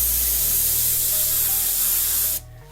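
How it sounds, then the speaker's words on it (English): Spray paint in the shade Candy 2.0 hisses in one steady, close burst of about two and a half seconds onto a white paper towel, then cuts off sharply. "if you spray a little bit on there"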